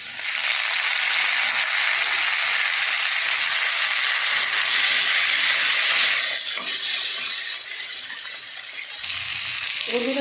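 Tomato goes into onions frying in a fish-frying kadai, raising a loud, close, hissing sizzle that gradually softens and settles into a quieter crackle, with faint rattling stir sounds near the end.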